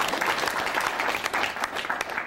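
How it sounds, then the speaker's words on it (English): Brief burst of audience applause at a pinball expo, dense and steady clapping from a crowd for the whole short stretch. "You can clap if you want."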